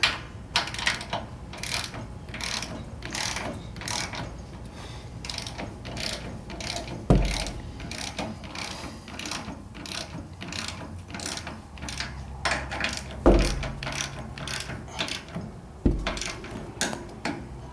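Ratchet torquing bolts while a distributor goes into a VW engine, producing long runs of rapid, evenly spaced clicks close by, broken now and then by a short pause or a heavier knock.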